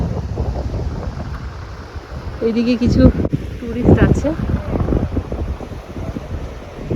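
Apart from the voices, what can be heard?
windy seashore with boats, Mousuni Island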